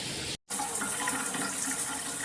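Water sprays hard from a Cobbe all-metal rain shower head, a loud, steady hiss broken by one short silent gap before resuming.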